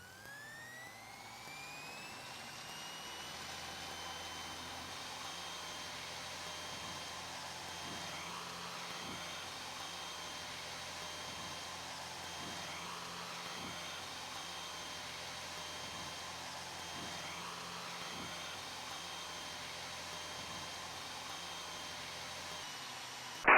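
A small airplane's engine held at full throttle during a touch-and-go circuit, a steady loud droning roar with a rising whine at the start and faint rhythmic pulsing, continuous with no talk.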